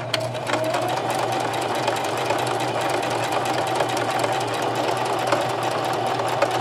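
A domestic sewing machine stitching a bar tack on a buttonhole in interfaced fabric, a rapid steady mechanical whirring and needle chatter that runs continuously and loud with no talking.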